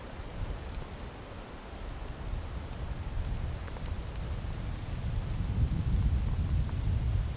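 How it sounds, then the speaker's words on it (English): Light rain patters in a steady hiss with a low rumbling undertone, gradually growing a little louder, in the West Virginia wilderness. "still pitter-pattering rain a little bit"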